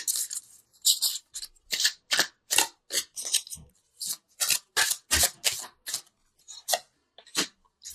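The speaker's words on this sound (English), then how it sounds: "I wanted to pull an angel card just to bring it all together." Angel cards are shuffled and one is pulled from the deck, a quick string of crisp papery snaps and riffles in irregular bursts, close by and with no talking.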